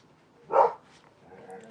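A pet dog excited about squirrels gives one short bark indoors, moderately close, followed by faint whimpering sounds against a quiet background.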